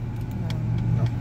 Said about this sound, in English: we are stuck in traffic